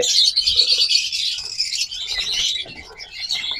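Pet birds, a breeding pair offered for sale, chirp and tweet continuously in a bright, busy chorus, close and fairly loud, with a few soft coos and no talking.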